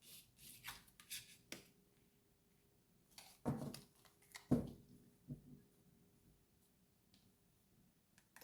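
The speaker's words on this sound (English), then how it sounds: "I'm just going to pull some cards" Tarot cards being shuffled and pulled from the deck, soft papery rubs and a few sharper card snaps close by in an otherwise quiet room.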